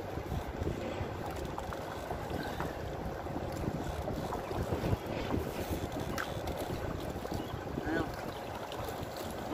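Strong wind buffets a small fishing boat out on the water while fishing for flathead, a constant rough rushing and microphone rumble with occasional knocks throughout.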